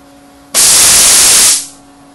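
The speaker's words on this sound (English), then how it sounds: "so that determines how long the air blast is going to be at the bottom" A programmable coolant air solenoid fires a single loud hissing air blast lasting about a second, starting abruptly and tapering off, over a faint background hum.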